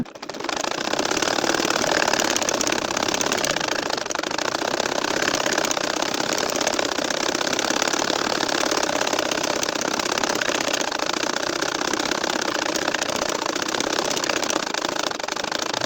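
A household sewing machine runs continuously while stitching a baby nakshi kantha quilt, a loud, steady mechanical whir close by with no pauses for the whole stretch.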